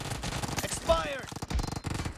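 Rapid bursts of automatic gunfire in the video game PUBG, close repeated shots in quick clusters, with a whooshing sweep in between and a voice briefly heard over the shooting.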